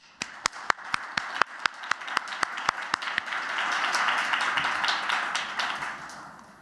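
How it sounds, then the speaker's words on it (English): Audience at a housing design competition applauds student teams: a few sharp, isolated claps ring out first, then build into a full, steady round of applause that swells and slowly fades. "you all deserve a big round of applause for all of your hard work"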